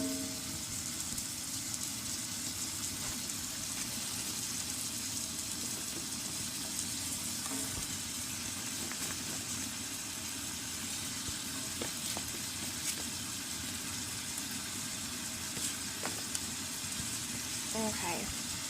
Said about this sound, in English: So now I get to add my green beans.